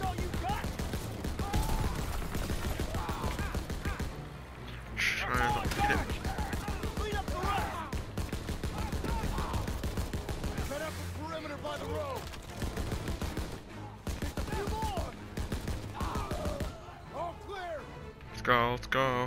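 In Call of Duty: WWII's Operation Cobra, an overheating machine gun fires in long, rapid bursts with brief pauses, loud and close, while someone talks over the shooting.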